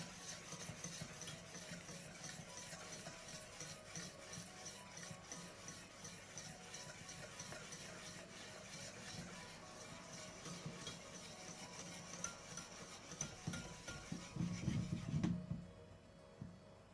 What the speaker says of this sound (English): And whisk while we add the oil.